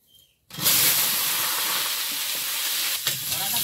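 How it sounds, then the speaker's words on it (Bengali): Potatoes drop into hot oil in a very hot wok, bursting into a loud hissing sizzle after half a second of quiet, then frying steadily with a brief dip near the end. "আলুটা ভাজে নেব।"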